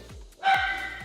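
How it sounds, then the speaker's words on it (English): A single dog gives one short bark in the distance during a quiet moment at home. "That's the dog."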